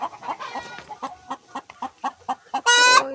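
A hen clucks in a rapid, uneven series of short calls before laying its first egg. It is close and clear, and it ends in a louder, drawn-out squawk.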